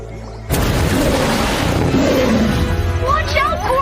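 A cartoon polar wind attack erupts suddenly as a loud roaring, booming blast that sustains for a few seconds before fading, with high squeaky cartoon effects rising near the end.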